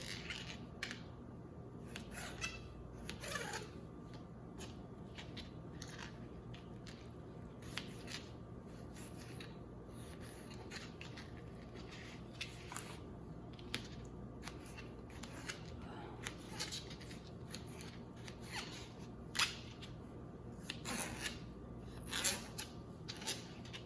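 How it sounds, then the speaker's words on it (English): A kitchen knife slices through raw potatoes with soft repeated crisp cuts and taps on a board, faint and close with no talk over it. "We'll go ahead and get a knife and cut these little guys"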